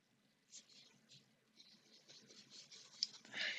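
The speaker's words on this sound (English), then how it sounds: "so you can see me really writing it down" A fountain pen filled with teal-edition Diamine ink scratching softly across paper in short close strokes, quiet and intermittent with slightly louder scribbles toward the end.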